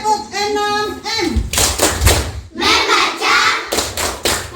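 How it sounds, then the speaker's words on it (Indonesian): Rhythmic group hand clapping in a tepuk 6M clap routine, bursts of claps and thuds in a patterned beat alternating with chanting voices, close and loud. "mari kita lakukan tepuk 6M"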